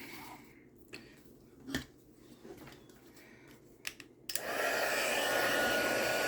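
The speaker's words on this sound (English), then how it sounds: "Close that up before I turn on my heat gun." A heat gun switches on about two-thirds of the way through and runs as a loud, steady, close blowing roar, after a few soft clicks and handling taps.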